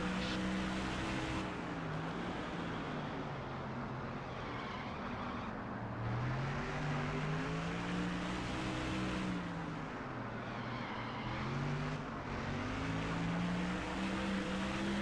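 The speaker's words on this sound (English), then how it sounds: "We got some cars leaving pit road ahead." Race cars roll along pit road in the video game NASCAR Thunder 04, a steady, droning engine roar with rising and falling pitch as cars accelerate and pass, continuous and loud throughout, with no speech.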